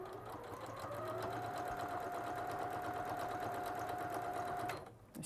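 A sewing machine runs a lock stitch at the corner of a quilt piece, a close, even motor hum with a steady tone that holds for nearly five seconds before cutting off.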